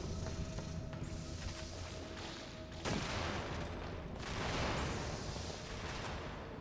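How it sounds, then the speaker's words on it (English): Explosions and gunfire in the horror video game Extermination, a dense, loud barrage of shots and crashing booms with a heavy burst near the middle, alone without talk. "That explosion didn't hurt any of them."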